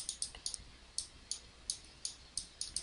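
Computer keys or mouse buttons clicking during a digital painting session, a faint, sparse series of sharp close clicks at irregular intervals with no talk.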